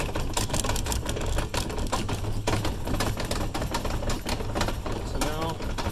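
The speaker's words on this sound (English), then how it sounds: "now we come over to the front and we start cranking it down." Hand crank turning counterclockwise to lower a 1999 Palomino Yearling tent trailer, a steady run of rapid mechanical clicks and ratcheting close to the microphone, continuous for the whole stretch.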